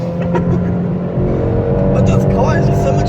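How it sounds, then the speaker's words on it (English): A Vauxhall Corsa OPC engine pulls hard while driving, a loud, steady drone heard from inside the car with rising pitch, and voices talk over it. "I'm so surprised at how this flipping car just pulls."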